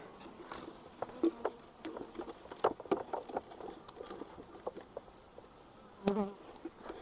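Honeybees from a swarm buzz close to a heavy hive box, a soft steady drone broken by scattered light taps and bumps, with a louder burst near the end.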